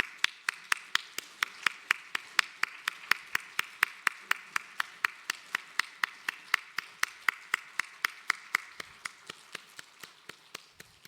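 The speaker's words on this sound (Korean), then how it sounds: "자리에 들어가실 때까지 우리 박수해 주시면 감사하겠습니다" Rhythmic, evenly spaced claps from a church congregation at a Korean Wednesday evening worship service, steady beats continuing for the whole stretch with no talk over them.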